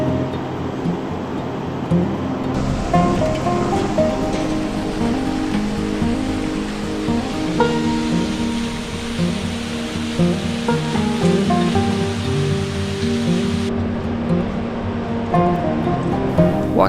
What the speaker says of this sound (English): And that is the Dudhkosi River.